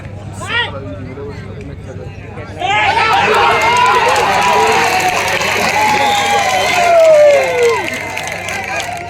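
Crowd noise swells at a kabaddi match, spectators applauding and cheering loudly after a quiet start, with a commentator's voice running over the din throughout.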